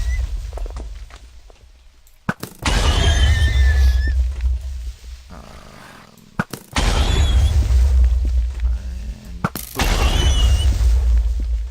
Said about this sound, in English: just blow them all up with your rocket launcher